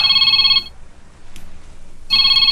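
A cellphone ringtone chirps loudly in a repeating electronic pattern, stops for about a second and a half of quiet room tone, then resumes ringing.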